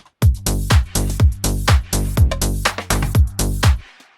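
Disco drum fill sample from a disco sample pack placed into a music production, sounding over a steady beat with punchy kicks and a bass line in a loud, full mix.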